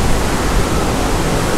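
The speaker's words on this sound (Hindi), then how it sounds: "ये जो आपको भाप दिख रही है, नेचुरल गरम पानी आ रहा है।" Natural hot spring water at Manikaran pours out steadily in a loud, even rush with no breaks, no voices heard.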